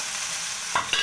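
Okra stir-fried in a pan, with a steady sizzling hiss and a couple of sharp scraping stirs near the end, close and alone without talk.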